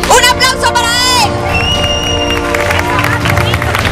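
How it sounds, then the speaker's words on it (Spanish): A crowd at a live zombie survival show cheers, whoops and applauds loudly and close, with excited children's shouts and voices mixed in over a continuous roar. "¡Un aplauso para él!"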